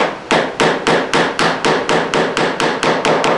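A chisel is struck down into a scribe line while cutting a curly maple dovetail, giving a close, loud series of about a dozen evenly spaced sharp mallet blows, each with a short ringing decay.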